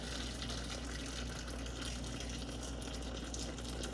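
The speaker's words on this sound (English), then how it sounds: "I'm adding the boiling water to these lids to let them soak." Boiling water poured over canning jar lids as they soak, making a steady continuous gush of liquid at even, moderate loudness for several seconds with no talking.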